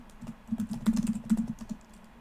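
Rapid, uneven keystrokes on a computer keyboard clatter close by in bursts, with denser clusters in the middle before tapering off.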